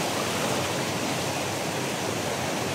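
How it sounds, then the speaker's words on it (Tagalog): A strong current of water rushes loud and close in one dense unbroken roar, with no talk over it. "Malakas yung agos ng tubig."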